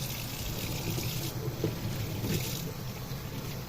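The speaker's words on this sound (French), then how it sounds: "Maintenant je vais rincer." Steady running water streams continuously while an item is rinsed after cleaning with an ox-gall stain remover, a broad even wash of liquid sound at moderate level with no voices.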